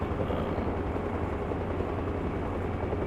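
An aircraft takes off in the military video game Arma Reforger, its engine a steady, loud, dense roar that holds without a break.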